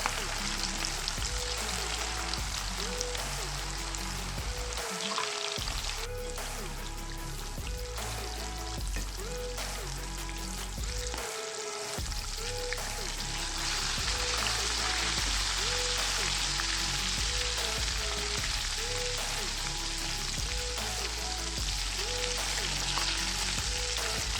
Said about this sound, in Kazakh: Қызып тұрған майымызға балықты салып, екі бетін қызартып пісіріп аламыз.